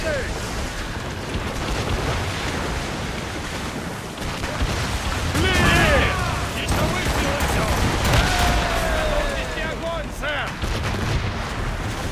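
Booming ship cannon blasts and crashing impacts in an Assassin's Creed Rogue naval battle roll over a constant rumble of waves and wind, with shouted voices mixed in.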